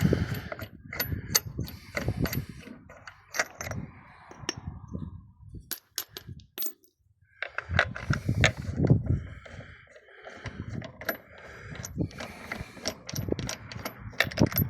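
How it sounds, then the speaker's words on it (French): A hand ratchet clicks in quick runs while loosening a car wheel bolt, with metallic clanks of the socket and bolt between bursts, close and fairly quiet, with a short lull in the middle. "Je desserre la roue. J'enlève le boulon de roue."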